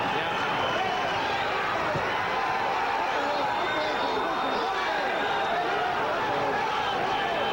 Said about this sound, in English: the crowd definitely cheering for the man from Mexico City, Daniel Zaragoza